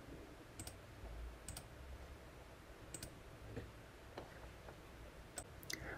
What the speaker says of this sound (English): I can click on these to jump to a particular section